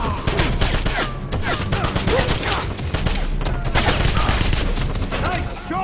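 Rapid bursts of gunfire from the Wolfenstein 2 video game, set in Midtown West, crackle almost without pause, loud and dense, with shouting voices mixed into the firefight.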